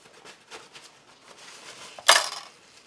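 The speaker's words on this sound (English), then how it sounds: "Let's give the spoon a rinse" A metal spoon is rinsed and knocked against a mess tin while preparing a Spanish military ration of sausage and tomato, a faint wet swish followed by a single bright clattering clink.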